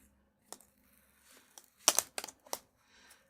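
A wall decal is peeled away from its paper backing page. The quiet, soft crinkling and tearing rustles come in a few short bursts, and one stronger crackle sounds near the middle.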